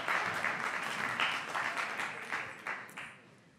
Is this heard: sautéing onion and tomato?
no